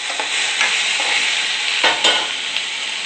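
Chopped tomatoes hitting lightly browned onions in a hot pan give a loud, steady sizzle with a few stirring scrapes on top, close up and with no voices.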